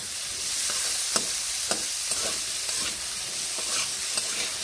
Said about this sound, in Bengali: হলুদ গুঁড়োগুলো ভালোভাবে মিশিয়ে এইভাবে নেড়ে নিচ্ছি